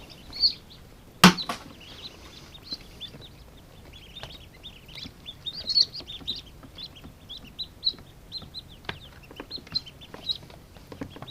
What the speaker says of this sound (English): the little chirping sound inside the shell